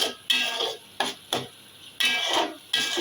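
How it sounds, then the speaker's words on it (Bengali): Spicy mutton curry being stirred and sautéed in a pot, with a spoon scraping in separate strokes and short bursts of sizzle between brief pauses, close and fairly loud. "এই দেখেন কষাইতে থাকি।"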